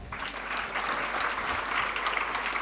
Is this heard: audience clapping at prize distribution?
yes